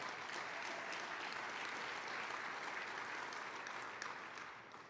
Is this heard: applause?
yes